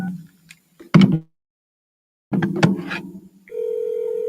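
A steady telephone dial tone starts and holds alone near the end, after a few sharp handling knocks and clunks from a handset being picked up and set down.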